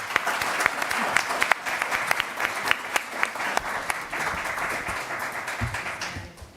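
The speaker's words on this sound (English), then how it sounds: "So let's give everyone a round of applause." A symposium audience applauds with dense, sustained clapping at steady loudness, crisp individual claps standing out, then fading near the end.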